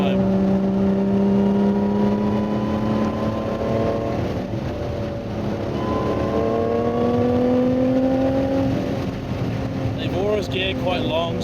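A Lotus Evora 400 driven on a race track: a loud, close engine drone whose pitch climbs and settles as it pulls through long gears, with a brief higher whine near the end.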